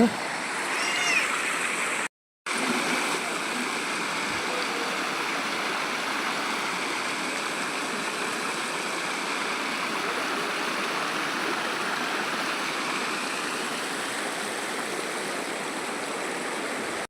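A stream of water flows steadily along both sides of a path leading to a Hanuman temple, a continuous rushing wash that stays fairly loud throughout, broken only by one brief dropout near the start.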